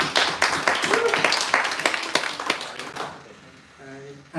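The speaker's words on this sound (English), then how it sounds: "Let's hear a huge round of applause for every project ship." Audience applause and clapping at a hackathon prize announcement for AI mathematics projects, a dense burst of hand claps that fades out after about three seconds into near quiet.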